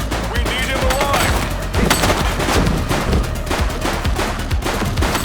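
Gunfire bursts from the police video game The Precinct, dense and continuous across the whole stretch, with repeated sharp shots layered over game music and ambience; a voice is faintly present in the mix.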